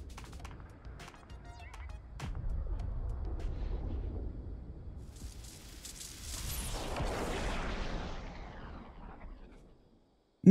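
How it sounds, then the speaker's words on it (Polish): A portal exploding in Fortnite during a replay: faint rumbling and scattered crackles, then a second, brighter surge of hissing blast noise that swells and trails off into near silence before a sharp final hit. "Sudanim na szczęście udostępnił ujęcie z powtórki przedstawiające eksplozję tego portalu i pojawienie się pana pomidorka."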